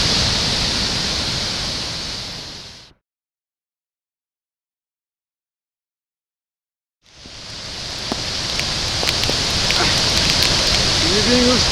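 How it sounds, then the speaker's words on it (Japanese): Victoria Falls throws up heavy spray, a loud continuous roaring hiss of falling water that cuts out abruptly to silence for a few seconds, then returns just as strongly. "すごい水しぶきです。"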